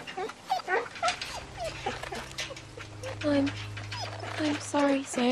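A dog whimpers in the video game The Walking Dead Season 2, high, thin whines repeating in short bursts, close and clear, while a person talks throughout.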